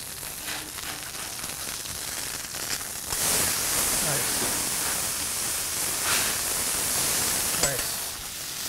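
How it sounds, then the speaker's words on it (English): Burger patties hiss and sizzle loudly on a hot griddle at Chicago's Billy Goat Tavern, a steady frying roar that swells as the patties are flipped, with faint kitchen clatter and no clear talk. "we're going to go ahead and flip these"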